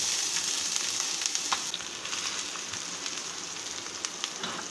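Onion fries in hot oil in a pan, a steady close sizzle with crackling pops and light stirring over about five seconds, no talking.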